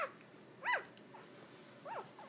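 A 10-day-old mixed cockapoo puppy yawns, giving two faint high squeaky whimpers, one early and one near the end, separated by quiet.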